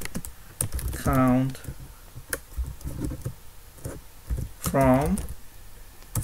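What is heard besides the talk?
typing an SQL statement on a computer keyboard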